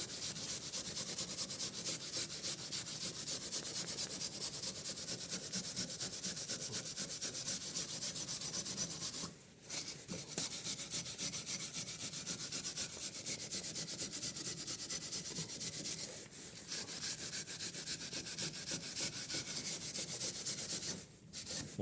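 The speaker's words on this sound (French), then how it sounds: "Voilà, donc première opération brosse métallique." A metal wire brush scrubs the front brake disc hub of a Peugeot 206 during a disc and pad change, a steady close rasping scrub that runs for about twenty seconds with brief pauses.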